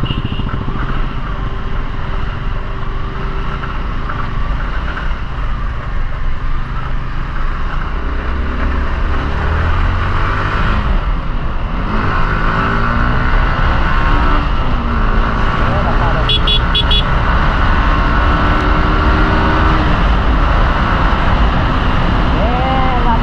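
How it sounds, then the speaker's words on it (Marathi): Busy highway traffic near Mangaon, Maharashtra, heard from a rider's vehicle: a continuous loud engine and road roar with passing vehicles, including a motorcycle, rising and fading, and a voice talking over it throughout. "ट्रॅफिक बघा"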